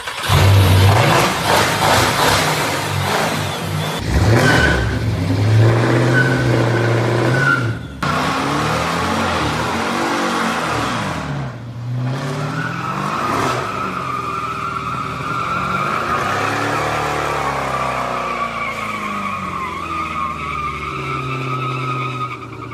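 A Dodge Charger Hellcat engine revs loudly up close as it burns off old fuel after sitting, with rising and falling roars, sharp throttle blips and a squealing, skidding edge.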